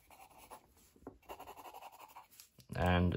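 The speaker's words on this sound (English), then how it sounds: "Just a regular Palomino blackening pencil." A Palomino Blackwing pencil scratches across paper diary pages in quick, close strokes, followed by a louder voiced sound at the end.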